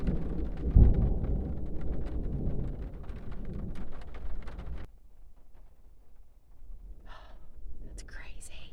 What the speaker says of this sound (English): There were just two big ass lightning strikes,